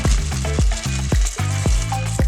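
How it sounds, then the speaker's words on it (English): A spoon stirs egg noodles into crockpot chicken noodle soup, making loud, close, wet scraping strokes about every half second with no talking. "Give it a good stir."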